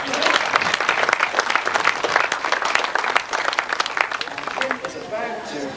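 Crowd applause at the 1998 World Longtrack Championship, a dense, steady round of clapping close by with voices mixed in throughout.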